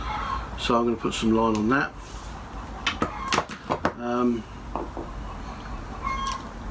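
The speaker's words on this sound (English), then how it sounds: "You can probably hear my chickens squawking in the background." Backyard chickens squawk and cluck in short harmonic bursts behind a man's speech, several calls near the start and middle with sharp clatters between.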